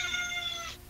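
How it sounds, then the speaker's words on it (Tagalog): A cat gives one drawn-out, fairly loud meow that holds steady and then cuts off, with no talk. "Ayaw kumbinsido yung pusa."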